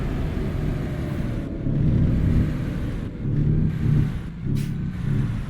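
An International LoneStar truck in American Truck Simulator uses its J-brake engine brake, giving a loud, deep, rumbling drone that swells and fades in several pulses, with brief hissing bursts between them.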